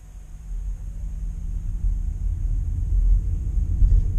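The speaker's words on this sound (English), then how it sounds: "So we're running on pure electric here, so all you hear is the electric motor." 2018 Hyundai Ioniq hybrid setting off on its electric motor alone, a low faint rumble of tyres and drivetrain building gradually from inside the cabin, with a quiet steady high whine.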